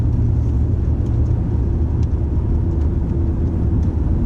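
Car driving on a snowy mountain road in Big Bear, California, its steady low engine and road rumble filling the cabin continuously with no breaks.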